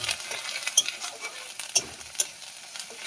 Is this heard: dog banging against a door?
no